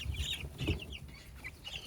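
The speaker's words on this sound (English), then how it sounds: "And I think that's the wry neck chicken." Sixteen-day-old Cornish Cross meat chicks cluck and cheep in a busy brooder, with several soft low clucks up close and repeated high peeps scattered throughout.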